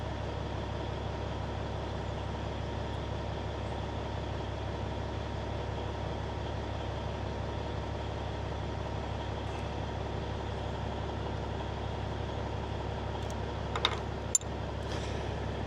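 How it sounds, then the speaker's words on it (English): A Kenworth K100 cabover truck engine idles steadily throughout, a faint, even low drone with a couple of brief clicks near the end and no one talking. "it's so interesting how that truck idles itself up"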